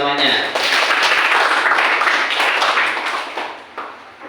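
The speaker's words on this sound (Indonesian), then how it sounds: "Oke, tepuk tangan untuk teman-temannya." High school students in a math classroom applaud their classmates, a sustained round of clapping from a group that tapers off over a few seconds, with a teacher's voice heard briefly at the start.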